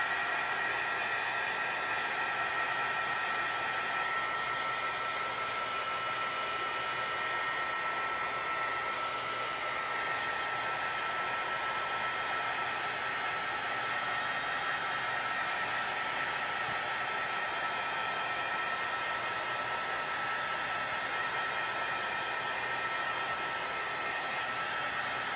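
A heat tool blows steadily on stamped ink on a card, drying it with a constant, loud broadband whoosh that runs unbroken for the whole stretch with no voices.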